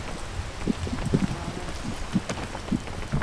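Rain falls in the climbing video game PEAK as a steady patter of drops on surfaces, with scattered louder taps and a soft windy background, moderately loud and without speech.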